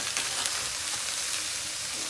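A 32-ounce bag of shredded green cabbage, red cabbage and carrot sizzles and fries steadily in a hot pan, a continuous close, bright crackle with no talking.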